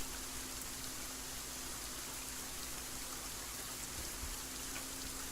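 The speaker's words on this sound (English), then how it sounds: "And it's raining." Rain falls in the Saurian video game as a steady, even hiss of drops with a faint low hum beneath it, continuous and unbroken throughout.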